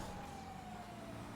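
Police siren in a GTA-style driving video game, a steady wailing tone running continuously under engine and traffic noise at moderate level.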